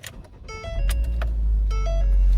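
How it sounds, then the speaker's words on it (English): A 2009 Ford Focus SE starts from inside the cabin: a couple of warning chimes sound, then the engine catches and settles into a steady low idle hum. "from here we'll climb into the vehicle and then start her up"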